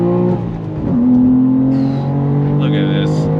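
2024 BMW M2 with a six-speed manual accelerating hard in second gear, its engine note climbing steadily in pitch and loud from inside the cabin, with someone talking over it.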